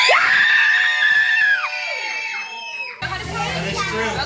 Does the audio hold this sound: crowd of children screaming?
yes